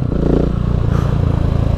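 A motorcycle fitted with a Remus exhaust and a dB killer runs loud and close, its engine pulsing with a rapid throbbing note and a rattling, clattering edge throughout.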